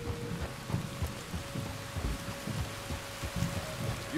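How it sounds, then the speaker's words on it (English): Steady, soft rainfall in the video game Red Dead Redemption 2 hisses in the background with low, faint rumbles underneath, no talking. "There's rain on the wind."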